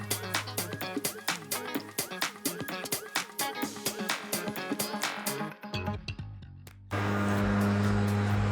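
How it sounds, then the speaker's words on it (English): A leaf blower tidies a freshly scarified lawn of loose thatch and moss, a loud, close, rushing drone that steadies into a continuous roar after a stretch of rhythmic pulsing. "Daniel's just tidying up with a blower"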